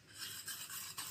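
Spoon stirring a bowl of yogurt mixed with gram flour for dahi tadka: a steady scraping, rasping swirl with soft rhythmic strokes, close and fairly quiet, with no talking.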